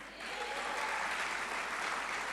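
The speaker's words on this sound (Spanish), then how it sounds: "Da un aplauso." A church congregation breaks into steady, fairly even applause during a sermon on faith, sustained throughout at moderate volume without any voices.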